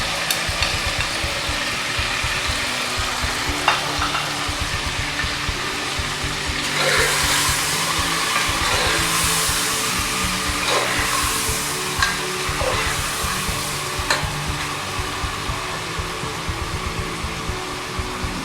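Garlic paste, ginger paste and red chili fry for qorma, a dense steady sizzle up close with bursts of stirring noise and occasional clinks, no talk.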